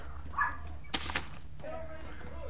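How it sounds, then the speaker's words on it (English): A dog in the background of an online Fortnite voice chat gives two quick, faint yips in close succession amid low room noise. "Your dog sounds so cute."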